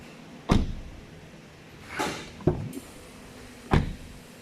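Several solid doors of a 2005 BMW M5 (E60) thud shut one after another, each a deep, close, heavy slam separated by short pauses.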